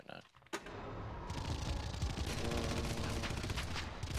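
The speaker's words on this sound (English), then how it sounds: "the machine guns start firing" Sustained machine-gun fire from the Red Faction shooter, a dense rapid rattle that starts abruptly after a brief opening moment and continues loud and unbroken to the end.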